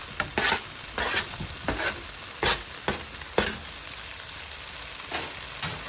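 Roasted cauliflower for a vegan gobhi masala sabji hits a hot pan, sizzling steadily under repeated scraping, clinking strokes of a spoon, close and clear, with no talking.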